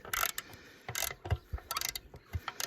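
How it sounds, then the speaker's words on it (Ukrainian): Ratchet wrench loosening bolts on a home water system, with rapid clicking pawl bursts in several close, uneven runs and short pauses, no talking. "все відкручуємо і дивимося ще один болт"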